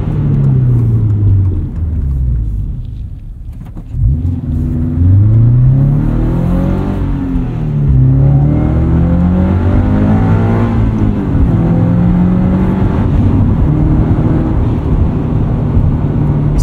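A Subaru BRZ fitted with a catted UEL header revs and accelerates, its engine tone rising and falling through several gear changes, loud and close from inside the car with no talking.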